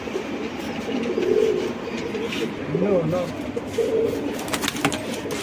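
Allahabadi pigeons coo in a loft in Wadala East, Mumbai, giving a few soft, low warbling calls spread over several seconds, close by, with someone talking over them.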